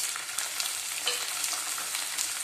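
Chickpeas frying in a pan with browned onions for egg bhurji, a soft continuous sizzle with light stirring crackles, close and steady without talk.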